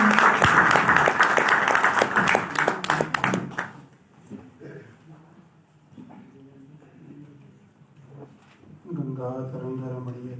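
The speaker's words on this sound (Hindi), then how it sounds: "जोरदार ताली।" Loud, dense applause from a large audience at a spiritual discourse fills the opening seconds, then drops away into quieter voices and chant-like singing.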